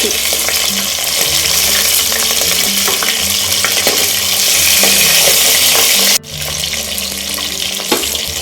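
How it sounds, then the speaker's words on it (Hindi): Fish fillets fry in hot oil in a pan, second side down, with a loud, steady sizzle and crackle filling the whole clip, dipping briefly near the end before resuming. "एक साइड से मछली हमारी फ्राई हो चुकी है। अब हम इसकी दूसरी साइड से फ्राई"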